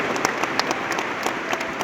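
A church congregation applauds in praise, a steady, even wash of many hands clapping together at moderate volume with no voices standing out.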